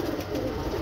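Pigeons from a flock of long-flying racing birds give a low, steady cooing murmur that runs continuously through the short moment, close and moderately loud, with no talk.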